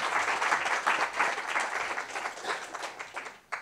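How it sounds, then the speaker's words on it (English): An audience at a Black History Month panel event claps in a steady, dense round of applause for the panelists; the sound is continuous and fairly loud, then cuts off abruptly near the end. "can we give another round of applause to all of our panelists?"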